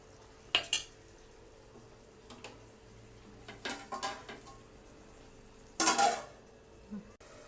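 Metal clatters against a pan of egg masala: a few sharp clanks and rattles, spaced apart, with a louder scraping clang before a final tap as the lid settles, over a faint low hum.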